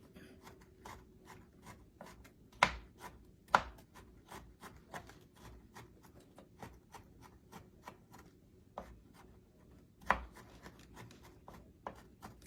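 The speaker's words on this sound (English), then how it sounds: "Don't want to have a whole one of these little chocolate chips in a bite. I'd rather have just shavings" Chocolate chips are shaved into fine shavings, giving soft, faint scraping and chopping strokes in an irregular rhythm with a few sharper knocks, close up and without talk.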